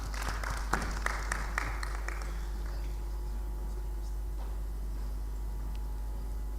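Audience applause for candidates at an African Union Commission chairmanship debate: a burst of clapping in the first two seconds tails off into a steady, moderate crowd murmur with scattered claps.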